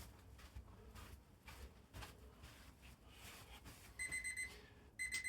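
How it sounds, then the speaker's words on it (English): A game timer alarm sounds at the end of a football match, two short bursts of high electronic beeping cutting in over faint crowd and field noise. "And there we have the timer."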